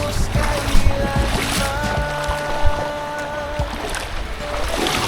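A strong water current rushes near a breakwater at a white beach in Bolinao, Pangasinan. The steady, broad wash of water runs throughout with wind noise, a faint tonal hum and occasional bumps, and no clear talk.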